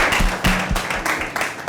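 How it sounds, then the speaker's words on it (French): An audience applauds Dr. Shirish Balachandra, a steady burst of many hands clapping close and loud, with no voices over it. "Je vous demande d'applaudir le docteur Chirich Balachandra."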